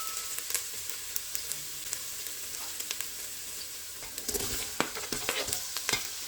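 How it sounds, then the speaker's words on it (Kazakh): Potatoes sizzle steadily in a hot pan over onions, a bright constant hiss broken by scattered pops and crackles, close up with no talking. "Қызып тұрған жуамыздың, пиязымыздың үстіне картошкамызды салып, жақсылап қуырмалап алатын боламыз."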